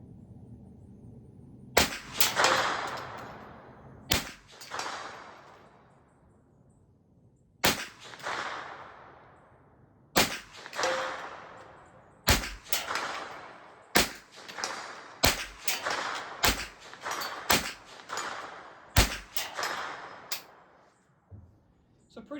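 A Ruger 10/22 rifle is fired outdoors as a string of about fifteen sharp, loud cracks, each with a short ringing echo, at uneven spacing from several seconds apart to quick pairs.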